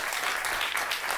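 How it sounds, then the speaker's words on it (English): A conference audience at a food policy event claps in a dense, steady burst of applause that fills the whole short moment. "Give them another round of applause, please."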